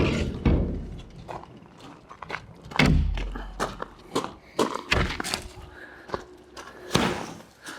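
A door on a 1966 Ford F100 pickup is shut with several heavy thumps and slams, mixed with footsteps and clunks in an irregular series of close impacts.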